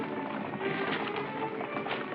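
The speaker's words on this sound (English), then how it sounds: "Horses." Faint, rapid clopping of horses' hooves, as though a patrol of riders approaches, muffled within a dense, noisy background and lasting only a couple of seconds.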